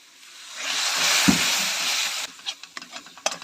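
Ground coriander and cumin frying in a pan with a splash of water while being stirred, a loud hissing burst that builds then cuts off, followed by several short scraping stirs, no speech.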